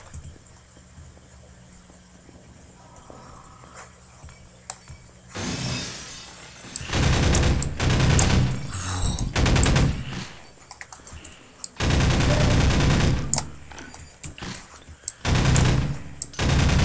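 Gunfire in Half-Life 2 breaks a quiet, low-level game ambience after about five seconds: several loud, sharp bursts of rapid shots separated by brief pauses, each volley harsh and crackling across the full range.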